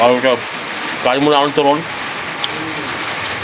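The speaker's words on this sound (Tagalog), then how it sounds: "Nabutan na kami ng ulan." Steady rain falls throughout as a constant hiss under intermittent nearby speech, with a light drip or tap partway through.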